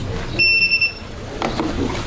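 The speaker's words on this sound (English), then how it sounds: "I'll turn off the beeping." A short burst of high electronic beeps from an alarm at a city council meeting, several quick pulses in a row, followed by a faint rustle in an otherwise quiet room.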